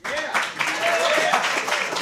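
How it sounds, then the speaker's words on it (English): Live club audience applauding for a band, a short burst of clapping and cheering mixed with a voice talking over it. "How about another big round of applause for Prince and the Paupers?"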